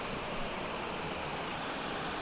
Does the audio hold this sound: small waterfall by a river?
yes